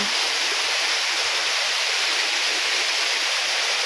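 Engcanto Falls in Bikal, Libmanan, Camarines Sur, a waterfall pouring in a steady, loud, close rush of white noise with no breaks.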